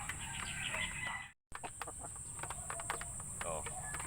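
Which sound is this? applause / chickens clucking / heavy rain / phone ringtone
chickens clucking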